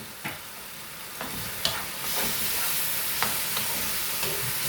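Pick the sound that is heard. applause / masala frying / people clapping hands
masala frying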